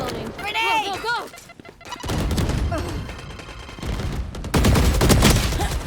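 Rapid gunfire from the video game Valorant bursts in dense volleys of sharp shots and impacts, with a voice talking over the opening moments.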